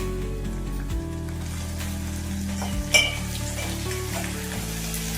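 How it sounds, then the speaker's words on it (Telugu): Curry leaves and a small tomato hit softened onions in a hot pan for tangy chinthakaya pappu charu, giving a steady, close sizzle with occasional utensil clinks and a brief sharper spike of frying. "ఇప్పుడు ఇందులో కొద్దిగా కరివేపాకు, అలాగే ఒక చిన్న టొమాటో వేస్తున్నానండి"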